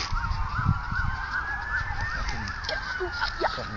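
A distant ambulance siren wails in a steady rising and falling pattern, mixed with a second sweeping tone over a constant low rumble of background noise.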